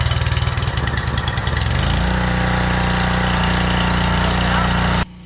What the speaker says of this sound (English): we're gonna turn the switch to turn on our engine